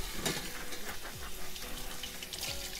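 A kitchen sink fills from a tap running full on hot water, getting ready for washing dishes and utensils after making goat milk soap. The water rushes in a steady, close gush for the whole stretch, with no talking.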